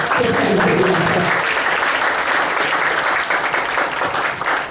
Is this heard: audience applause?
yes